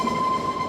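Running steadily, the Shivalik Deluxe Express on the Kalka to Shimla line gives off a continuous rumble with a faint high tone, heard close up with no voices.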